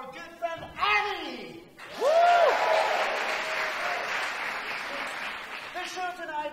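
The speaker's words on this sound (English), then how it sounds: "a round of applause already for our good friend, Annie!" A live show audience breaks into applause for a performer being introduced, the clapping swelling after a few spoken words and carrying on steadily under and around the host's voice.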